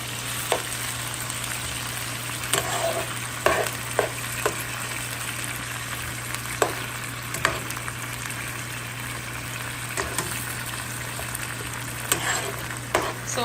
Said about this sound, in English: Potato and oil. With all of my condiments to start sauteing.